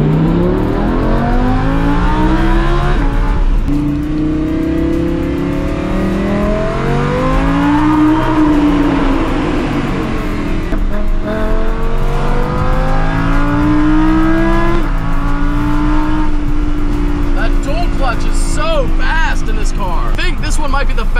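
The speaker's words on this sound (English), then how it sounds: "nothing even comes close to that V10 sound" A Lamborghini Huracan's V10 engine pulls hard while driving, its rising and falling revs sweeping through repeated gear changes and staying loud and close throughout, with someone talking over it.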